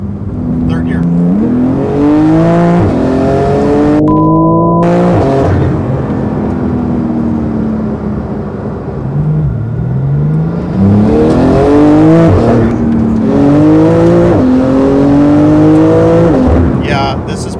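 A Porsche GT2 RS sports car engine, tuned to over 800 hp, revs hard at full throttle through the gears, roaring and climbing in pitch repeatedly, loud and close throughout.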